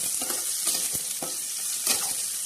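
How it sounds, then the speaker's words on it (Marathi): Steady crackling sizzle of spices and onion in hot oil, with a few sharper spatters and scraping strokes popping up over the continuous hiss. "आता हे बघा छान असा तडका बसन"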